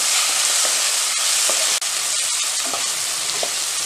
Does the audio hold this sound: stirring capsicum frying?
yes